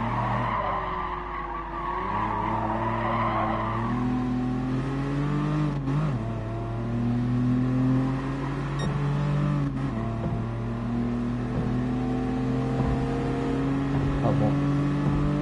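A car engine in the Gran Turismo Sport racing game on PS4, holding a steady drone that rises and shifts through gears, with tire squeal at times and no voices.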